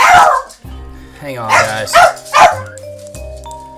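Several small house dogs barking and yipping in sharp close bursts indoors, with someone speaking briefly over them.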